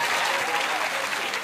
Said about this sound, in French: Merci d'applaudir encore très fort pour Zaef le taximan